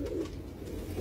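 Low, soft cooing from a large pigeon, a steady throaty murmur over about a second with no voices.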